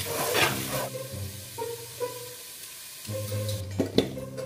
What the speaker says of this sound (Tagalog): i-fry ko muna kaya yung garlic, no?